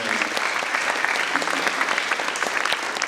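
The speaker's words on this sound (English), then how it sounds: "Good round of applause for him." Steady applause from a crowd at a school band spring concert, dense clapping continuing throughout without a break.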